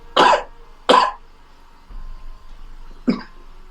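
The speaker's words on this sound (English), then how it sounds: "There's somebody coughing in here?" Three harsh coughs indoors, two quick ones close together and a softer one after a pause, over a low background hum.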